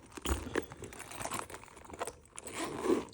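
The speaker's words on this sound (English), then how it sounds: "The zipper on this one, I have a little hard time opening and closing." A Louis Vuitton bag's zipper opens and closes with soft, uneven rasping pulls and faint crinkling handling noises, close and quiet, in a few short bursts.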